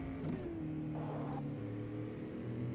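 A car accelerates in the Gangstar 5 video game, its engine revving up through rising tones and holding a loud, continuous drone with shifting pitch, no speech over it.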